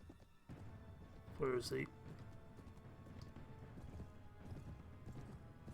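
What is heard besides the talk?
horse hooves galloping, from video game Mount and Blade Warband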